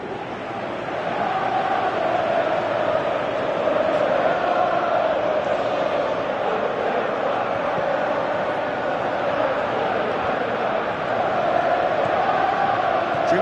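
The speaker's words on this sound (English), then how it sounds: "you can feel and hear how the crowd are reacting to all of this" A Chelsea football stadium crowd roars continuously during a match, a dense, loud wall of massed voices holding steady for over ten seconds with only slight swells.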